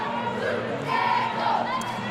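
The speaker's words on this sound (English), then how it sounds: "A big crowd has assembled." A large crowd fills a high school gym at a boys regional basketball game, producing a steady, loud murmur of many voices with brief swells of shouting.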